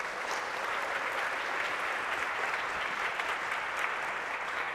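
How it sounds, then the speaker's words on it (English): An audience applauds after a talk at a coding conference, steady sustained clapping from a crowd throughout, at moderate distance with no voices over it. "Can we all please just give her one big last applause?"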